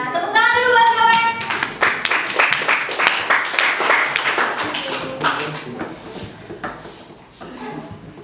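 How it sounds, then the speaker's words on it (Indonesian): A class of students applauding a classmate during a dance lesson, a burst of brisk, close hand claps that thins out toward the end, with voices talking over it. "Iya, tepuk tangan dulu buat Noel."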